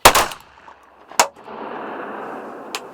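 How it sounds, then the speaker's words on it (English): Shotgun blasts while hunting ducks outdoors: one sharp loud shot at the start and a second a second later, then a quieter distant pop near the end, with a steady background hiss between. "Somebody shot real low, somebody shot real high."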